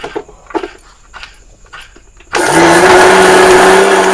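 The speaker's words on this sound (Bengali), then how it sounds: "এবার চিনিটা আর ছোট এলাচটা আমি গুঁড়ো করে নেবো।" Electric grinder suddenly switching on and whirring loudly at a steady high pitch while pulverising sugar and green cardamom, preceded by a few soft handling clatters and taps.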